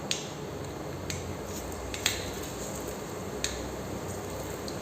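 Half a spoon of mustard seeds crackles in about two ladles of hot oil, tempering spices for a restaurant-style poori masala. A few sharp, isolated pops stand out over a steady, soft sizzling hiss.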